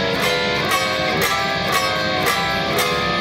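Electric guitar strumming a riff, played loud and steady with regular accented strums for about three seconds and no voices.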